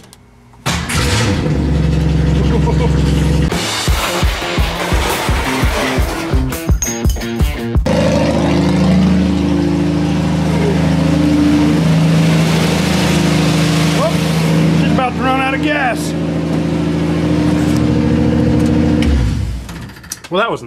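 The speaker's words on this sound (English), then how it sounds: "fire up the iron six" An old iron six-cylinder engine cranks with rhythmic chugging, catches and settles into a loud, steady close-up idle with some revving and rattling, running for a long stretch before shutting off.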